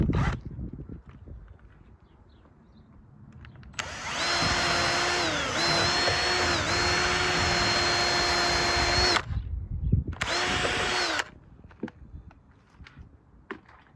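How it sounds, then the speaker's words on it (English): A power drill whines steadily for about five seconds, pitch dipping slightly as it bites while drilling out a rivet hole on a Boston Whaler boat rub rail, then a brief second burst after a short pause. "Drill it out"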